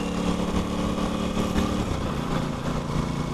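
An Aprilia RS660 motorcycle engine hums in a steady, buzzy drone, close and continuous with no one talking.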